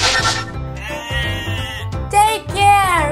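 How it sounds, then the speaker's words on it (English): Toy goat bleating in a pretend pet clinic game, a few wavering bleats close up, with some background noise between them and no clear talk. "My goat is sick."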